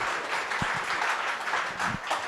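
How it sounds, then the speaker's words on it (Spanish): An audience at a lecture event applauds in a steady, even wash of clapping that fills the room, with a few sharper individual claps standing out. "Recibámosla con un aplauso"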